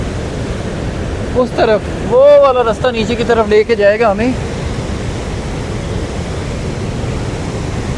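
Rushing river water in a Kashmir valley flows under a shaky crossing bridge as a broad, constant roar, steady and close, with someone speaking over it briefly in the first half.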